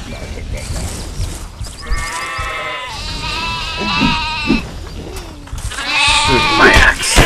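In the video game Overlord Raising Hell, sheep bleat in wavering cries over game ambience and rumbling effects, several calls overlapping and fairly loud.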